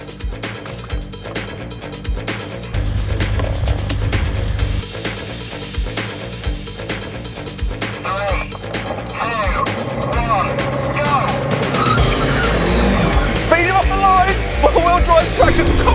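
Mercedes-AMG A45 and CLS63 cars accelerating in a drag race, a loud engine roar that builds and rises in pitch over sixteen seconds, with wind and excited voices talking over it.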